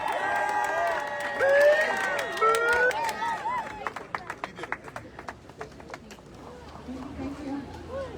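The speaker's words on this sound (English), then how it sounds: "Let's give him another round of applause." An outdoor protest crowd at a US consulate chants and cheers, then breaks into scattered, uneven clapping that thins out, with voices carrying underneath.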